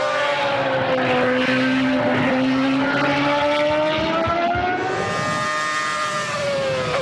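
A modern Formula 1 car drives at speed, heard close from onboard as a loud, continuous high-pitched engine whine that rises and falls through gear changes, with a brief dip before revving up again.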